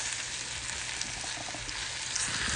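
Beef stew meat frying in a single layer in a big pot, giving a steady, close sizzle and crackle that holds evenly throughout with no talking.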